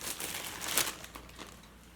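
Leafy kale dropped into a food container, giving a soft crinkling rustle with a brief louder crunch near the middle, close and quiet, with no talking.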